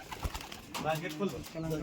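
Kalanka pigeons coo softly at a home loft while a person talks close by before they are released, with rustling and a low murmur of movement.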